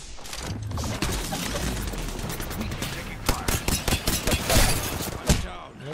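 Gunfire in a video game shooter, rapid bursts of close automatic shots with a denser volley of distinct reports toward the end, set against busy game noise.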